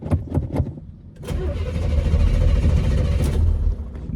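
Corvette engine cranking on a golf cart battery after sitting unstarted for a couple of weeks: a few quick starter whirs, then it catches and settles into a loud, steady idle up close.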